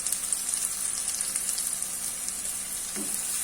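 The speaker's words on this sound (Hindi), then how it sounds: "प्याज ले लिए हैं। उनको मैं फ्राई कर रही हूँ।" Steady, close-up sizzling of onions frying in a pan and turning light brown, a continuous crackling hiss with no talking.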